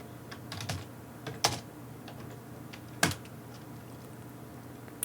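Keys tap faintly on a computer keyboard as a password is entered, a few scattered clicks with two sharper strokes standing out against a quiet room.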